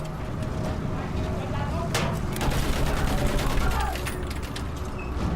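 Battlefield 1 battle din with gunfire and field gun shots, dense and continuous. Sharp cracks and booms rise out of a rumbling background while voices shout over the action.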